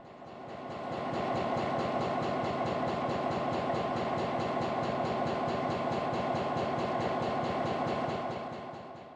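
Prairie Dog Central Railway freight train rolling past at close range, a steady, loud rumble with a rhythmic clickety-clack of wheels that swells in and fades out at the end.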